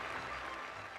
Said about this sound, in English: The applause, further proof of the inevitability of the result.